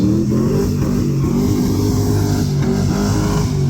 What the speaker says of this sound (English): Trying out for loud exhaust over there.